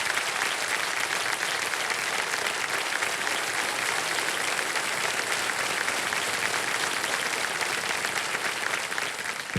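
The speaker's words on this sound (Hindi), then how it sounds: "तालियां बज जाएं" Steady, loud audience applause fills a TV quiz show studio, a dense clapping wash sustained for nearly ten seconds without talk.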